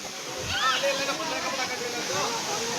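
Feet wading through shallow flowing water on a rocky path at a temple stream, with steady rushing water, sloshing splashes close by, and voices talking and shouting over it.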